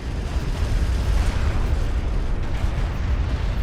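Dense, continuous rumble of artillery shells bursting in Homeworld: Deserts of Kharak, a steady booming wash with no distinct gaps, loud and sustained throughout.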